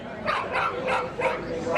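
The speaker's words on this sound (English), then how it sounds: "The dog's told to speak." Search dog barking on command while moving at heel with its handler in a working dog ring at a game fair, giving about five sharp, evenly spaced barks, close and loud, without talk.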